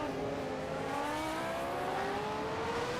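A 1991 McLaren Formula 1 car at the Canadian Grand Prix screams past on track, its engine whine climbing steadily in pitch across a continuous, loud run.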